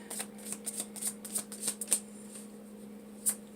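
Tarot cards shuffled in quick bursts for about two seconds, a string of crisp riffling snaps, then a pause and a single final snap. Close and clear over a steady low hum.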